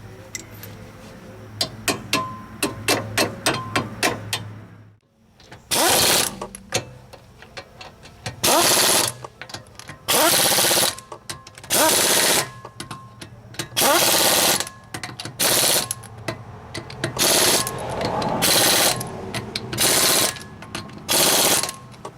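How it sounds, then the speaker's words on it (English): A pneumatic impact gun runs in car lug nuts on a Saab during rear brake work, firing in a rapid ratcheting burst and then a series of loud, repeated hammering bursts with brief pauses between them. "I got this gun where it's set where it runs these lug nuts in about 95 to 100 foot-pounds"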